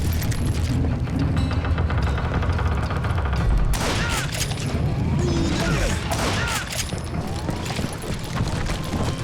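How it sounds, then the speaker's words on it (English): A dense barrage of gunfire pours down in the Western shooter Call of Juarez Gunslinger during the hunt for the Dalton brothers, with loud, overlapping shots and booming impacts that continue without pause. "a fusillade of bullets come raining down from on high"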